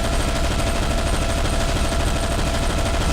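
Dense, unbroken automatic gunfire in Zombie Shooter 2, loud and continuous with rapid shots blurring into a steady roar throughout.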